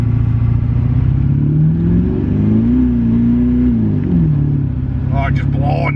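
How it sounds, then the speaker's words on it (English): An LS-swapped SN95 Mustang revs hard and spins its tires, a loud, close engine rising and falling in pitch, with a voice talking over the last second. "just blowing the tires off"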